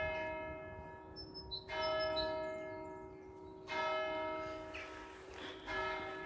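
Church bells ringing from a bell tower, several loud, resonant strikes at roughly two-second intervals, each leaving a long ringing decay, with faint outdoor background.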